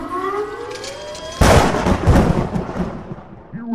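A lightning bolt thunder effect: a sudden loud crack hits partway through, swelling into a broad rumbling roar that slowly fades, preceded by rising whooshing tones.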